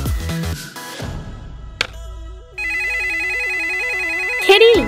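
An electronic phone ringtone plays a bright repeating melodic pattern, loud and close, after a few brief cartoonish sound effects.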